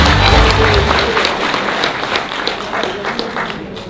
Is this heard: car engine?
no